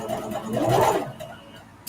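Home sewing machine stitching fabric squares for a mug rug, a short motor whir that rises and fades over about a second, then quiet with faint clicks.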